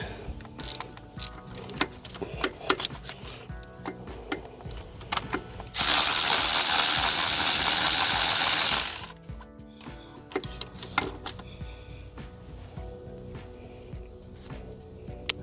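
Socket ratchet working a rusted, slightly cross-threaded spark plug out of a 3.4L Toyota Tacoma engine, with bursts of rapid clicking and metallic clanks, close, plus a few seconds of loud steady noise in the middle.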